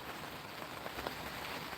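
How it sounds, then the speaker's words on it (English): Steady rain falls outdoors, a continuous soft hiss of drops with faint scattered patters close by, no voices over it. "I'm getting all kinds of rain."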